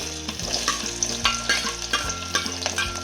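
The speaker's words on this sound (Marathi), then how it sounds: "आता त्यामध्ये बारीक हात चिरून कांदा घेतला मी, तळून घेऊया" Finely chopped onion fries in hot oil for a chicken rassa, a steady close sizzle broken by repeated stirring scrapes and clinks, with no talking.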